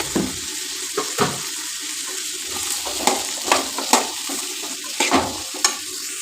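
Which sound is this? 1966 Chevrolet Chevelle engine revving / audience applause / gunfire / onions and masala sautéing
onions and masala sautéing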